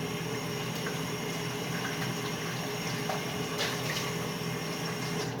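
A box being rinsed out with running water, a steady hissing stream with faint splashes that carries on without pause, close and moderately quiet, with no talk.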